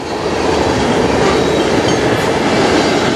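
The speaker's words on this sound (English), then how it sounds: "Three CN engines." Three CN locomotives lead a train rolling steadily past at close range, with a continuous loud rumble, wheel noise and faint rail clatter throughout and no talk.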